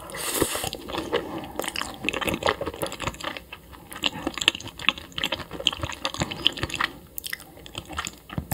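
Someone eating raw anchovy sashimi up close, with soft wet chewing and small bites repeating steadily and no talk over them.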